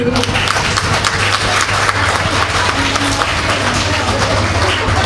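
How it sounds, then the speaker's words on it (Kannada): Loud, dense applause from a large audience at a Tulu cultural event in Udupi, steady clapping filling the whole stretch without a break, with a few voices faintly mixed in beneath it. "ಜೋರಾನ ಚಪ್ಪಾಳೆ ಬೊಟ್ಟಲಿ"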